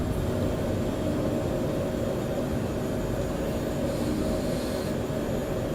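Phenom 100 business jet in Microsoft Flight Simulator, engines roaring steadily during the takeoff run and climb, a loud, even rumbling hiss without speech.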